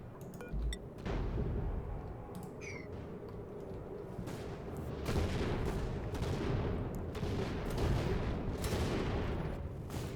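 Bombardment impacts in the colony sim Oxygen Not Included, a steady crackling barrage of scattered hits and thumps over a dense rumbling background, continuous with no talk.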